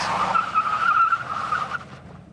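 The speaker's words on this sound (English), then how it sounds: "a skidding 180-degree turn while in reverse" A car skids through a 180-degree turn in reverse, producing a sustained, fairly close tire squeal that holds steady for under two seconds before cutting off, with no other sound competing.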